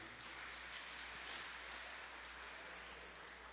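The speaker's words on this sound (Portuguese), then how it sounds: "Vamos aplaudir ao Senhor por isso, irmãos?" A church congregation applauds steadily, a sustained wash of many hands clapping at moderate distance, with no voices over it.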